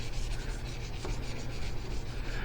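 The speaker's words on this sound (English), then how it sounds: "So put a little bit of polish on here, and literally just start polishing it." Blue cloth rubbing polish onto a stainless steel stanchion, giving a steady, close, rough scrubbing noise that keeps on for the whole stretch with no pauses and no voices.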